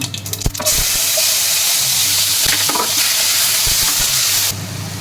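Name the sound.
mustard seeds and onion frying in oil for masala Maggi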